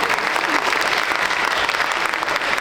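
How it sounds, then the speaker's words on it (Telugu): Audience applause at a Telugu association Sankranti celebration in North Texas, a dense, steady burst of many hands clapping together for nearly three seconds, loud and close, with no talk over it. "ఒకసారి గట్టిగా క్లాప్స్ అండి వీళ్ళకి."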